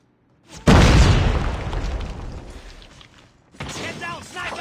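Flashbang grenade detonating in Call of Duty Mobile: a sudden loud boom that rings out and slowly decays over about three seconds, followed by further muffled gunfire and game noise.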